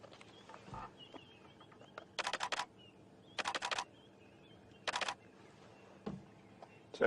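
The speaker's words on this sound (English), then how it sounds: "sorry guys, it's just my camera" A camera shutter fires in three quick bursts of rapid clicks, separated by pauses, close and fairly loud against a quiet outdoor background at sunrise on a safari drive near lions by the water's edge.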